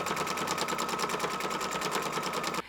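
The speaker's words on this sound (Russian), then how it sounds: "теперь мне нужно лицом к лицу, расстояние 1 сантиметр, пустить вот здесь строчку" A sewing machine runs a seam along a fabric belt, giving a fast, steady mechanical chatter that stays loud and close throughout before cutting off abruptly near the end.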